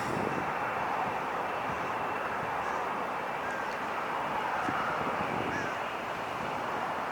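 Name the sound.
Boeing 787-9 Dreamliner jet airliner bound for Paris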